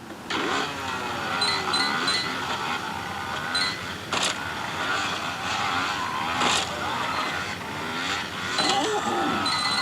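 A motorcycle engine from the video game Bike Baron hums and revs in a continuous, moderate drone, with a voice talking over it throughout.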